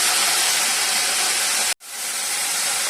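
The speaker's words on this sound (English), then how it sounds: "once the oil is hot, heat, then we add 1 teaspoon of ginger garlic paste" Ginger garlic paste hits hot coconut oil for a Coorg-style chicken fry, giving a loud, steady, broad sizzle that cuts out abruptly for an instant and then resumes just as strongly.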